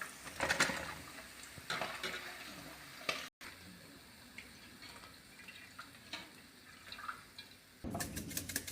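Fried paneer koftas are lifted out onto a plate in a home kitchen, with close clinks and scrapes of utensils against cookware and dishes in bursts, then a quieter stretch before more clatter.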